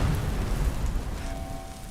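Thunder shockwave explosion from a Thor-style armour mod in Skyrim, a steady loud rumbling boom with heavy low-end roar that rolls on through the whole moment, with no speech over it.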